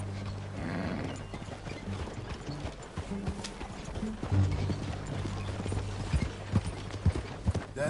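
Rhythmic clip-clop of horse hooves in Red Dead Redemption II, mixed with mechanical clicking and an occasional whinny, steady and fairly close.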